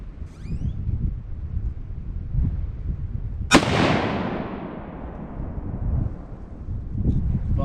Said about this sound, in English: I'm gonna shoot right for the middle target